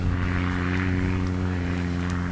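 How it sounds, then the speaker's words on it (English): A quad ATV engine drones steadily out in the Sonoran Desert, a continuous buzzing hum with strong harmonics holding level throughout, moderately close and unbroken by talk. "There's a couple of quads running around."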